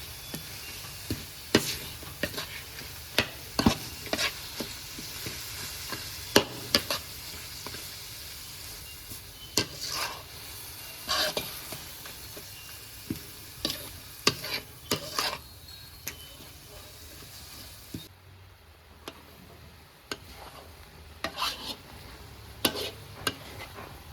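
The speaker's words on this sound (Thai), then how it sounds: "ผัดจนไส้ขนมของเราแห้งนะครับ" Sweet coconut filling for Thai khanom tom being stir-fried in a pan, with steady spatula scrapes and taps repeating through the whole stretch over a soft sizzle, close and fairly loud, with no talking.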